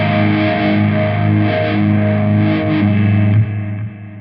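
An electric guitar sounds through a Hotone Ampero with its compressor block switched on, giving distorted, sustained chords that ring smoothly and evenly before tailing off near the end.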